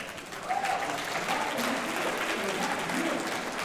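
Sustained applause from a crowd at a town hall meeting, steady and dense clapping with faint voices mixed in underneath.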